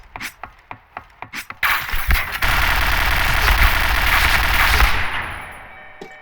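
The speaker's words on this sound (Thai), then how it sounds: "เสียงปืนยังยิงอยู่เลย" Several sharp single gunshots in the video game Point Blank, then a long, loud burst of rapid automatic fire that fades out, with one last faint shot.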